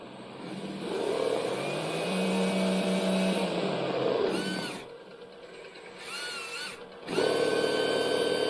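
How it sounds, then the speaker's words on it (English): A small electric motor whines and rises in pitch as a radio-controlled car's sound system plays its acceleration sound, with brief pauses and electronic beeps, then revs again, close up. "You can see the acceleration sound."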